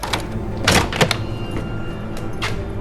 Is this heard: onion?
no